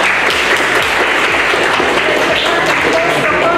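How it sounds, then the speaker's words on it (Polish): Audience at a Polish school computer-science competition applauding an honoured guest: steady, dense, loud applause from many hands filling the whole stretch, with faint voices mixed in. "Brawa."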